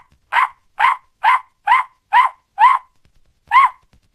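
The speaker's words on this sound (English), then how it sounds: "Dog, it is a dog." A dog barks seven times in sharp, evenly spaced bursts, close and loud with nothing else audible, the last bark following a brief pause.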